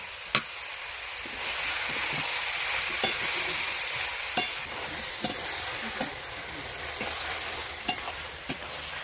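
Duck meat frying with onion, garlic, turmeric and coriander powder in a pan, giving a steady close sizzle broken by sharp clicks and scrapes of a spoon stirring every second or so.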